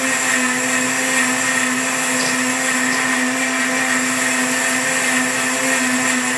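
Blender blending hot chocolate, a steady loud close whirring motor drone with a constant pitched hum, uninterrupted and without talk.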